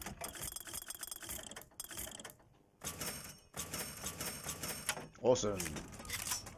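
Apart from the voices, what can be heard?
weapon reloading in the video game BioShock Infinite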